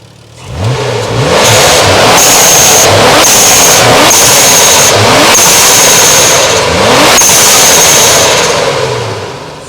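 Twin turbo Nissan 300ZX engine revving loudly and repeatedly, with an HKS SSQV blow-off valve hissing and fluttering between revs, close and continuous with no talk.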